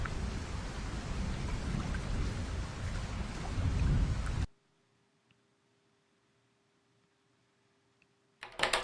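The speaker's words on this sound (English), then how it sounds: "During a pretty vicious thunderstorm." Heavy thunderstorm rain heard from inside a parked car, a dense loud roar of rain for several seconds that cuts abruptly to near silence, then briefly returns at the end.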